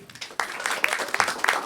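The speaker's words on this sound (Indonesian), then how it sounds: "yang tahu boleh minta tepuk tangan?" A crowd at a stand-up comedy show applauds on the comedian's request, a brief burst of clapping that swells quickly, with a few sharper claps and shouts standing out.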